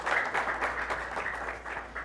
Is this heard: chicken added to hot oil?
no